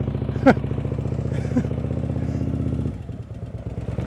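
A motorcycle engine hums steadily under throttle during slow-speed riding practice, then eases off, with voices talking briefly over the loud, continuous drone.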